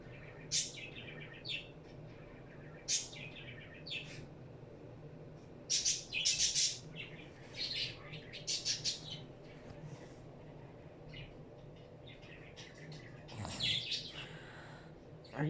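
A baby bird named Pheonix chirps and tweets in short, scattered bursts close by, over a low steady background hum, with a few squawky calls near the end.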